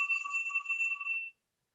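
Electronic mobile phone ringtone sounding steadily in a meeting room, a sustained bright warbling tone that cuts off abruptly after just over a second, with no talk over it.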